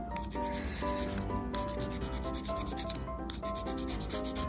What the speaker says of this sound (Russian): Я собираюсь просто, знаете, вот так вот попилить вот сам вот этот вот лак, гель сверху,